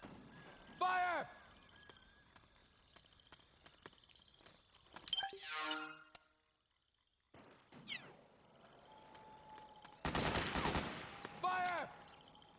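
Gunfire rings out in the video game Metal Gear Solid 4, with loud bursts of shots and a heavy volley midway and near the end, between quieter stretches and a brief silence, with voices shouting at times.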